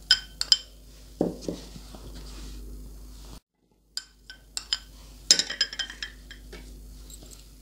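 Banana, strawberry and other fruit for cream chaat mixed in a bowl: scattered close clinks and scrapes of a spoon against the dish in irregular bursts, with a brief pause midway and no talking.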